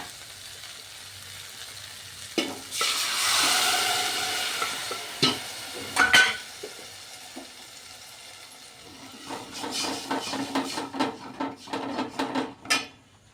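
Green chillies roast and get stirred in a pan with soft sizzling, punctuated by scraping strokes and metallic clicks of a spatula against the pan, loudest in a few bursts, with no talking.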